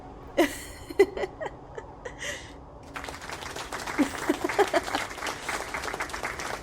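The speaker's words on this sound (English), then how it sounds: "They're cheering." Scattered clapping and applause with light cheering in a video game scene, a few sharp claps first, then a broader ripple of applause, fairly faint.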